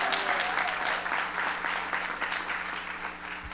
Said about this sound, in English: Let's give a big round of applause to Jennifer Lopez for her dedication